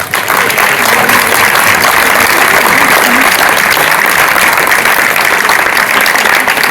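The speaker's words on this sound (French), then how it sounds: "Donc des applaudissements pour elle, s'il vous plaît." An audience applauds a woman named Lucie at an event, loud sustained clapping from a sizable crowd filling the whole span, with no speech over it.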